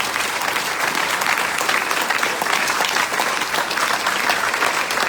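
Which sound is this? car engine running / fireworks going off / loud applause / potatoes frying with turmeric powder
loud applause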